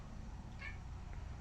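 A pet cat gives a single faint, short meow midway through, heard over a low, steady background hum.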